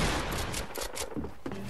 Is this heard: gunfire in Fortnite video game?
yes